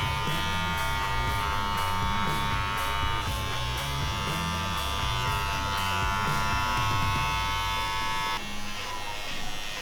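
Electric hair clippers trim a beard clipper over comb, giving a close, steady buzzing hum with slight shifts in pitch as the blades move through the hair, running throughout with no talk.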